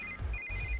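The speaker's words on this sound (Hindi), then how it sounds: "इस वक्त दीदी का फोन।" A phone rings with a steady electronic ringtone, two repeated bursts over a low background hum, signalling an incoming call from a family member.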